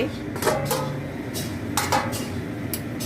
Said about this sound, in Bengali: এবার আমি ঢাকাটা খুলে